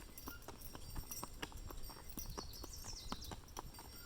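Horse hooves clip-clop steadily along an anniversary trail drive, a rhythmic series of sharp hoof strikes at moderate distance over faint outdoor background noise.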